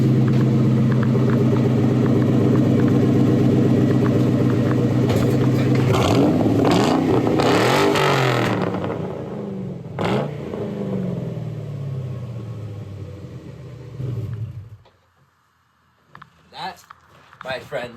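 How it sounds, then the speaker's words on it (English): A 2-valve Mustang V8 with a cat-back exhaust rumbles loudly up close, swells into a rev that climbs and falls away, then cuts off near the end, with voices heard over it. "It sounds like a 2-valve Mustang. Exactly like one."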